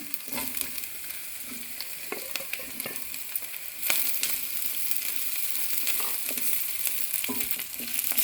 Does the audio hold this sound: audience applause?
no